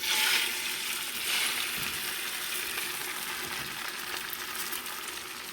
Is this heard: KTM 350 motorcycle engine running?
no